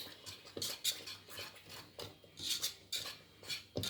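Vanilla custard being stirred in a pot on a turned-off stove, a spoon scraping and clinking against the metal in irregular strokes, moderately close with no talking.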